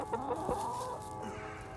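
Hens cluck softly nearby in short, throaty bursts, with one rising squawk in the middle.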